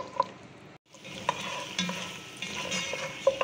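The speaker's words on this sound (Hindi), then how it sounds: "तो इसको हमने अच्छी तरह भूनना है।" Meat pieces with bone, for Afghani (Qabuli) pulao, frying in a pot while a spoon stirs them, with soft sizzling under scattered spoon scrapes and knocks, a brief pause near the start, no talking.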